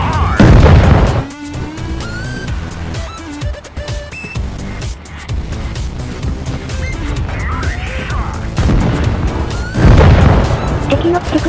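High-explosive shell fire in the tank game World of Tanks Blitz, with loud booming cannon blasts at the start and again near the end, plus game effects, over excited talk throughout.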